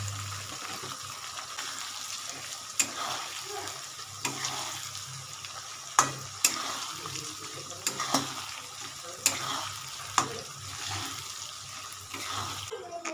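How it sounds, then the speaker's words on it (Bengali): Onion greens and whole tomatoes fry in a pan with a steady low sizzle, while a spatula stirs and clicks against the pan at irregular intervals; no talking. "এখানে তো ভাজা হচ্ছে"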